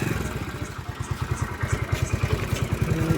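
A motorcycle idles close by, its engine thumping in a steady low pulse with light clatter as it is moved and parked.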